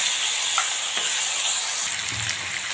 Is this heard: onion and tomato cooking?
yes